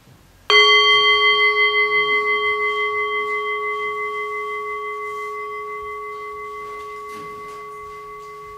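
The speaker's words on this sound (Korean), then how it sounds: "먼저 종소리를 한번 쭉 들어보시기 바랍니다." A meditation bell struck once rings out clearly with a bright sustained tone that slowly fades over several seconds, with faint background rustling.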